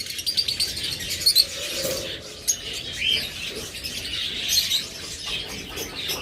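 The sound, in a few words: pet parrotlets (forpus) chirping in cage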